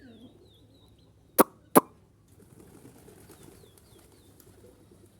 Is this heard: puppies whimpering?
no